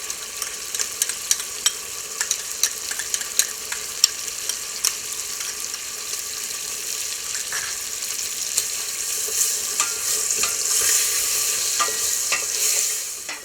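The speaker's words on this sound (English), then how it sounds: "I like to saute this first in butter, along with about 4 or 5 cloves of minced garlic." Shrimp sizzle in butter with minced garlic in a pan, a steady bright frying hiss punctuated by frequent small clicks and pops, growing slightly louder toward the end.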